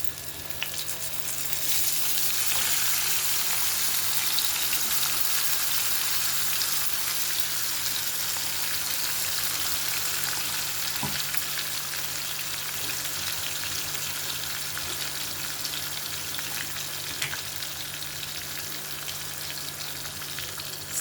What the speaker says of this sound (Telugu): ఇప్పుడు ఉల్లిపాయ వేసేసుకుందాం.